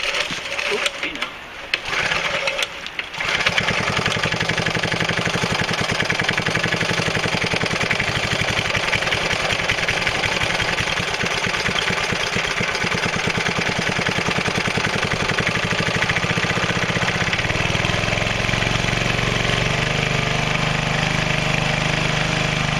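A small gasoline engine, started with a little choke, settles into a steady loud idle with a rapid chattering rhythm, continuing after a few brief starting bursts.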